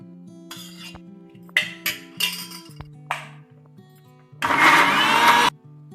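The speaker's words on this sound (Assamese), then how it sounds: "কবি পাতখিনি পিছা হৈ গ'ল।" A kitchen grinder blends boiled cauliflower leaves: short clinking jar bursts, then a loud continuous whir of about a second, heard close over a steady background hum with no talk.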